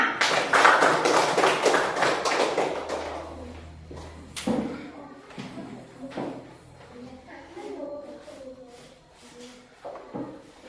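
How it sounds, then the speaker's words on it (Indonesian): Students in a classroom clap for group 3, a dense burst of applause at the start that thins into scattered taps and thumps, with a voice speaking faintly underneath. "beri tepuk tangan lagi untuk kelompok 3"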